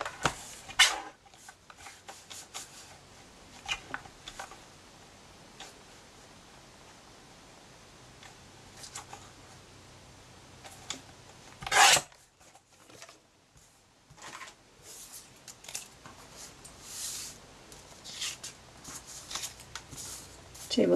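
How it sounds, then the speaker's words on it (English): Scissors cut a thin strip from card for handmade card making, giving a few short, crisp snips and papery rustles spread across a quiet room. "Let's just cut a little strip off and see what it looks like."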